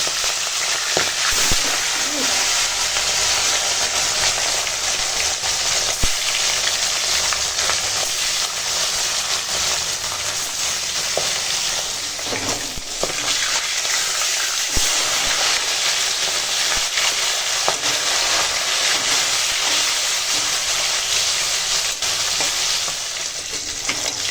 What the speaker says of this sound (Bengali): তেল গরম হয়ে গেছে আর চলো মাছটা ভেজে নেবো